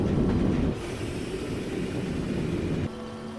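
A roller coaster train runs through a test ride in the Planet Coaster video game. Loud rumbling, rattling wheels on track hold steady for about three seconds, with no talk, then drop suddenly to a softer, lower roll near the end.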